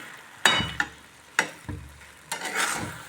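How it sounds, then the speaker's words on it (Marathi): Grated carrot halwa is stirred in a pan, the spoon scraping the metal in several distinct strokes over a soft sizzle, close up with no talking. "आता हे हलवू दे बघा खाली काही लागलेलं नाहीये"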